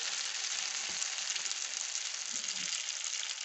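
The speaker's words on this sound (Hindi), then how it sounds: "पैन में मक्खन डालकर उसको गर्म कर लिया है। अब हम अंडे का मिक्सचर डालेंगे" Egg mixture for an omelette sizzles in a hot buttered pan, an even, bright frying hiss held steady from start to finish, close but soft, with no one speaking.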